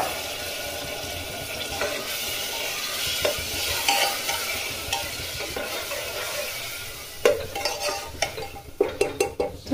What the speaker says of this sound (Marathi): दळून घेतलेली पालक टाकायचं आणि तेलात थोडं फ्राय होऊ द्यायचं